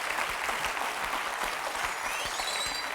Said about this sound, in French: je voudrais quand même qu'on applaudisse très très fort Brigitte